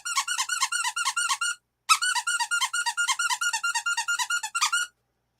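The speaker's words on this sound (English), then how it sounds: "And Nico is looking for the squeak toy." A dog's squeak toy squeaks in rapid, bright bursts, a quick run of about fifteen squeezes, a brief pause, then another fast series, close and loud with no talking.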